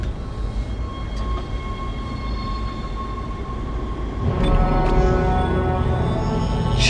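Train ride in the video game Dead Space: a steady low rumble of the rail car with a faint tonal hum, swelling louder after a few seconds, and no voices.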